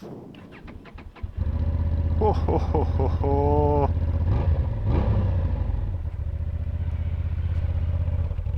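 A Honda XL750 Transalp motorcycle on its stock exhaust cranks over and starts, then revs in several quick blips before settling into a loud, steady idle; a voice joins in briefly over the engine.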